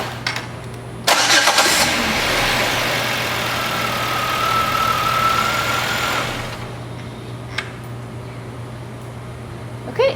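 A car's starter cranks the engine during a battery test, and the engine catches and runs loudly for several seconds with a steady whine before dropping back to quieter idle.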